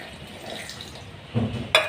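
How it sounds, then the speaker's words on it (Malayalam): Water splashes briefly into a container of onions and salt near the end, a short gush following a quieter stretch of faint kitchen noise. "കുറച്ച് വെള്ളം"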